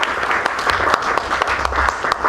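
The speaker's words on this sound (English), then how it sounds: "So another big clap for Mutua and Borioki." Steady applause from an audience at a professional development gathering, continuous and fairly loud throughout, a dense wash of many hands clapping with no pauses.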